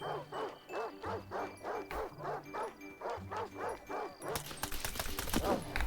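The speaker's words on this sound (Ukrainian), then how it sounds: "Тут пси собаки, треба їх перебити." Psi-dogs in the video game S.T.A.L.K.E.R. 2 barking in a fast regular run of about a dozen sharp barks, followed by a burst of loud crackling gunfire or impacts at the end.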